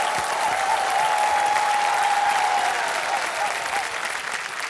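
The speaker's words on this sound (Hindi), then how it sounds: "जोरदार तालियों के साथ उनका स्वागत" Studio audience on the KBC game-show stage applauds warmly and continuously to welcome contestants, a dense even roar of clapping under a held musical note.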